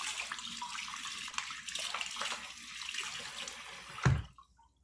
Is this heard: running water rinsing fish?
yes